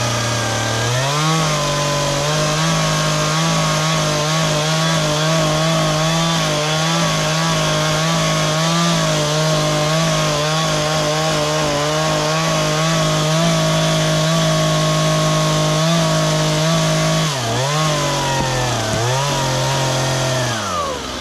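A chainsaw runs steadily at high revs while cutting logs for an off-grid log cabin build, loud and close, with a brief dip in engine pitch near the end.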